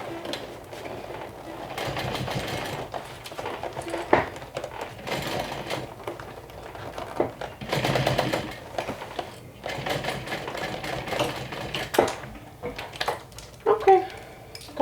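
A sewing machine top stitches a vinyl saddle bag, running in uneven bursts of rapid mechanical clatter with short pauses between runs, fairly close.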